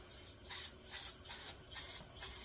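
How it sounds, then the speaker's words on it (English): Napa brake cleaner sprayed onto engine parts during a 250R top-end rebuild with a new piston: five close, evenly spaced hissing bursts of aerosol, each about a quarter second, separated by brief pauses. "So I take brake clean. This is just regular old brake clean from Napa"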